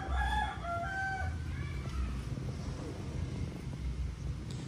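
Rooster crowing nearby, one loud rising and falling call at the start, followed by a quieter stretch of low rumbling wind and farmyard noise.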